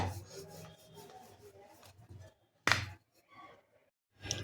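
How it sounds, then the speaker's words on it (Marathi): A rolling pin presses puri dough into flat rounds, giving soft, uneven rubbing and scraping strokes with short pauses and one sharper knock partway through. "इथे सर्व गोळे आपण अशा चपातीसारखे एक एक करून लाटून घ्यायचे"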